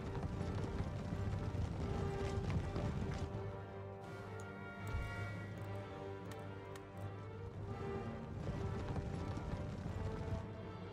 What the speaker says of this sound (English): There's some light horse that are charging in.